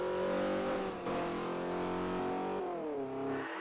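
A BMW E30 engine in a racing video game revs hard and aggressively, a raspy, growling roar rising and falling in pitch as it accelerates and lets off.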